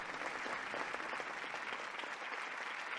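A theatre crowd at Ford's Theatre claps for the president in an even, continuous wash of applause, dense and moderately loud throughout with no pauses.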